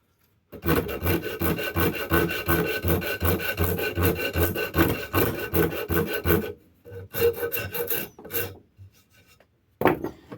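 A Shinto rasp scraping along a hand-carved ash axe handle in steady, rhythmic back-and-forth strokes, close and continuous for several seconds, then a few separated strokes and a pause before one last pass.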